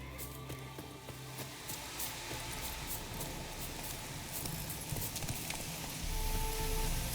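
Horse hooves clip-clop steadily on the ground while riding in The Witcher 3, a continuous trotting rhythm over a low ambient bed, getting a little louder and busier near the end.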